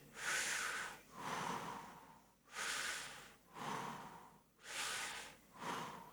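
Six slow, steady breaths drawn in through the nose during a guided breathing exercise, each inhale a close, airy rush with short pauses between, no talking.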